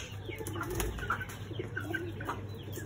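Birds at a pigeon cage, where Aseel chickens are pushing inside, give soft cooing and brief wing flaps over a low background rumble.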